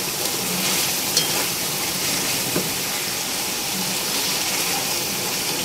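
Minced meat keema frying in oil in a pan, a dense steady sizzle with a couple of sharp stirring clicks, close and fairly loud, no talking.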